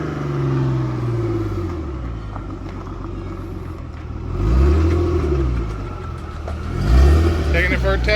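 A 1998 Isuzu Amigo 4x4 engine revs in rising and falling swells as it pulls away, close and fairly loud, while people talk nearby.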